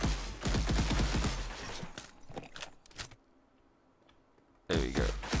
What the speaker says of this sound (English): I hear someone else firing.